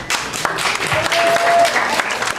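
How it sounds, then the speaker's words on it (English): A comedy club crowd bursts into loud, dense applause that swells and holds for a couple of seconds, with faint cheering mixed into the clapping. "go ahead and clap because I sure can"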